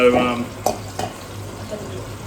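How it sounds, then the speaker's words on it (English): A mixture being poured over frying meat for a budget chilli con carne, sizzle rising under a short pour, then a couple of sharp spoon or pan knocks against a low steady frying hiss. "pour this mixture straight on top of the meat"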